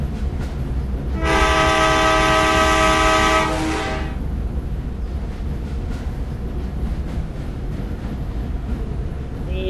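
A passenger train sounds a loud, sustained horn for a few seconds, then keeps rumbling and clattering along the rails at a steady level.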